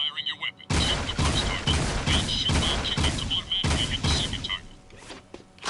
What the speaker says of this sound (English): Single shot assault rifle